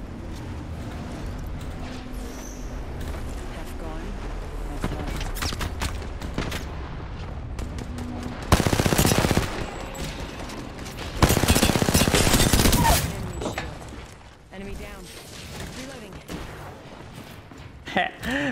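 Gunfire rattles in a video game in two loud, dense bursts of a few seconds each, with quieter shots scattered around them. Voices talk through the clip.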